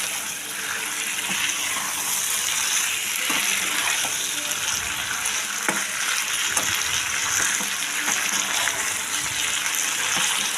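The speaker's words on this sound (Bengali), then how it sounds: "জল দিয়ে দিলাম।" Water goes into a pot of Kashmiri dum aloo being cooked, a steady loud rush and sizzle over the full length with faint clinks underneath and no talking.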